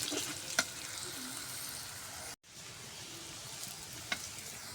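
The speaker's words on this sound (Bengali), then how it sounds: "আমি মাংসগুলো দিয়ে দিলাম ওই তেলের মধ্যে দিয়ে, এখন আমি সুন্দর কষাই নেব।" Meat added to hot oil for a Bengali lunch dish fries with a steady, dense sizzle, broken by a few sharp stirring clatters and one brief dropout midway.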